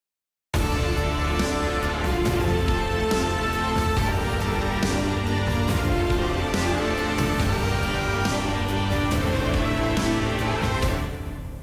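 Epic trailer-style orchestral chorus, with a massive brass section over full symphonic backing, loud and sustained throughout, with sharp percussive hits punctuating the dense wall of sound.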